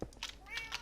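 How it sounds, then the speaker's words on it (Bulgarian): A cat in a video game gives a few brief, high meows in quick succession, close and clear over a quiet background. "Още котки!"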